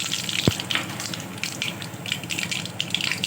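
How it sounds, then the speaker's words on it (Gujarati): Mustard seeds hit hot oil for tempering a stuffed ridge gourd curry, giving a steady, close hiss and crackle, with one sharp low knock near the start. "પહેલાં રાઈ નાખીશું"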